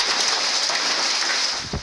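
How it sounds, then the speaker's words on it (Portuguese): Heavy rain falls steadily during a storm in Santa Catarina, Brazil, a dense continuous hiss of downpour that stays loud and close throughout, with a slight dip near the end. "Há três dias chove forte em Santa Catarina"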